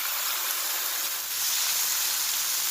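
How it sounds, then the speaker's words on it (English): Steady, loud sizzling hiss of tomatoes frying in a hot pan, continuous throughout with no talking. "I love frying the tomato. I love the flavor that it gets. So here goes our tomatoes."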